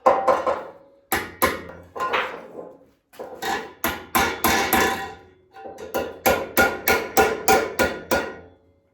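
Hard ringing hammer blows strike metal parts laid on a personal diesel-electric submarine hull used as an anvil. The blows come in quick close series, each decaying briefly, with short pauses between groups.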